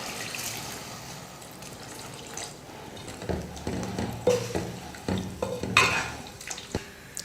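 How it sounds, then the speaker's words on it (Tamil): Dal cooking water poured into a pot of radish sambar in a home kitchen, a soft watery pour with clinks of a metal vessel and utensil knocks, close and moderately loud. "நான் பருப்பு வேக வச்ச தண்ணியை ஊற்றிக்கிறேன்."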